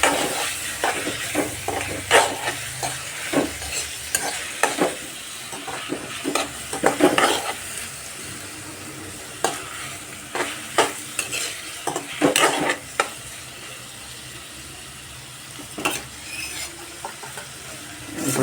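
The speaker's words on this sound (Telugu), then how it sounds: "ఇప్పుడు నేను ఇందులో టమాటాస్ వేసుకుంటా" Onions and tomato pieces fry and get stirred in a pan for a potato curry, with a steady soft sizzle broken by frequent scraping stirs and clinks of a utensil against the pan, close up and with no talk.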